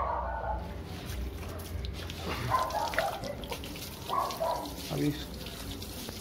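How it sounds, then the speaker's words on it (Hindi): Water splashes and trickles steadily over a male Shih Tzu's back during a bath, with someone talking at times and a brief dog whimper over the running water. "कमर के पीछे पीछे पानी डालूंगा"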